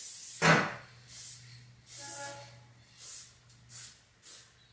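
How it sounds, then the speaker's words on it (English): Spray paint can releasing graffiti flare bursts: one short, forceful hiss, then four more separate puffs in an uneven rhythm, the longer sprays first and shorter ones toward the end, close and fairly quiet. "so then I get a big spray and then a small spray"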